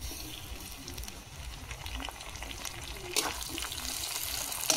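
Onions fry in a pan with a steady soft sizzle and crackle, joined by occasional scraping and stirring clatter, quiet and close.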